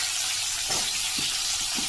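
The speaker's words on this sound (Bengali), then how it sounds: "পটল আলুটা ভেজে নেব" Pointed gourd and potato pieces fry in oil in a pan, giving a steady, close sizzle with a few soft stirring knocks and no talking.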